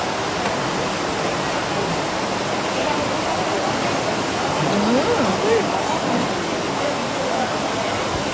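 Seawater washes and splashes steadily along a beach on a hot day, a broad continuous rush of surf that fills the whole stretch without pause.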